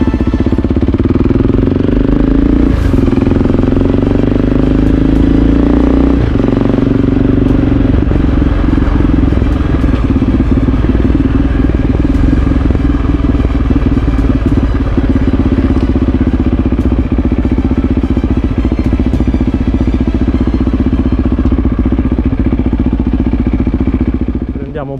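Aprilia Racing motorcycles at Su Gologone in Sardinia, a steady loud engine rumble close by, idling and revving with mechanical clatter throughout the whole stretch.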